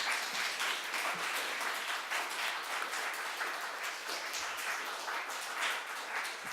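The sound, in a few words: audience applause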